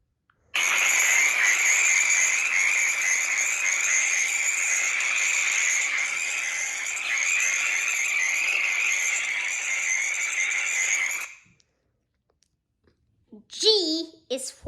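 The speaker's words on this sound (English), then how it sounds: "F is for frog." A frog sound from a children's alphabet app plays as a long, steady, raspy croaking trill lasting about eleven seconds. Silence follows, then a short voice is heard at the very end.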